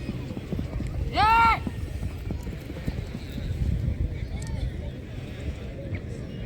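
A racing mare's hooves clip-clopping during a rewal chal horse race at Vakaner, a busy rhythmic patter heard through crowd murmur and outdoor noise, with a loud whistle-like burst near the start.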